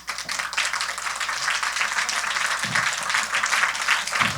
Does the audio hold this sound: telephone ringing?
no